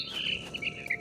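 Mother bird in What Remains of Edith Finch gives a quick run of high, thin chirps, close and fairly clear over a faint airy background, lasting about a second.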